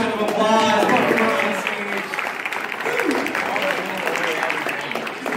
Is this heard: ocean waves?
no